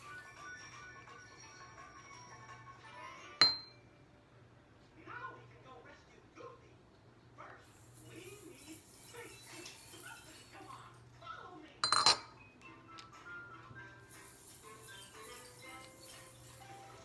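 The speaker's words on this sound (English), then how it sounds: "Now we're just going to sit our glass vase right on top" A glass vase clinks sharply as it is set down on a glued base for a dollar-store holiday cardinal terrarium, giving two bright strikes several seconds apart amid softer handling rustles and tapping, with a person speaking quietly.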